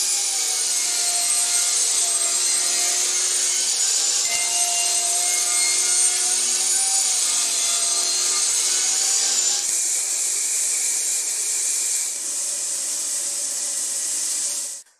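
A hand saw cuts through the wooden panel of a pallet-wood jewelry box, trimming one inch off its height, with steady rasping strokes close up, continuous and alone until it stops near the end.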